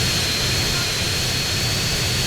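Steady roar of an airplane jet engine in GTA San Andreas, a constant loud whine and rush with no change across the short stretch.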